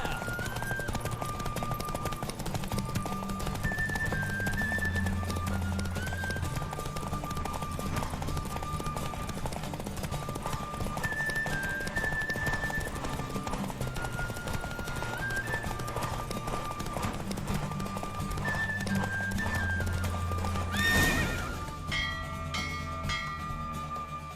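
Rapid rhythmic hoofbeats of a galloping horse in a horse race in The Witcher 3 run continuously over a dense game soundtrack with recurring melodic tones, ending in a brief swell.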